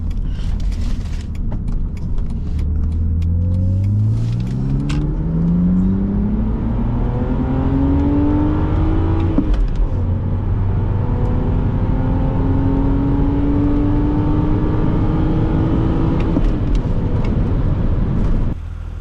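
A 2006 BMW Z4 3.0si with a six-speed manual pulls hard from inside the cabin, its inline engine rising in pitch through revs, easing at a shift near the midpoint, then climbing again in a steady, loud drone with no talk.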